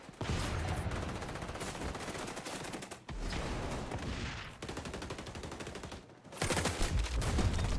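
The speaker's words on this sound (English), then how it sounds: "Shotguns." Rapid, dense gunfire from shotguns and other weapons in the online shooter XDefiant, loud and nearly continuous, with heavy blasts and brief pauses between volleys.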